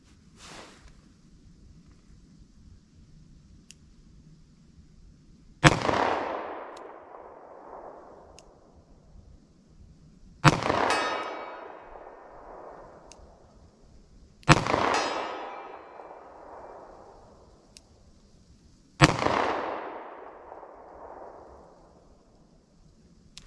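A 10mm revolver fires into ballistic gel outdoors: four loud, sharp shots spaced several seconds apart, each followed by a long echoing decay, with no talking.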